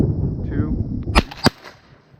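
Two shotgun blasts ring out during a duck hunt, a quarter-second apart, sharp and loud against quiet outdoor background noise.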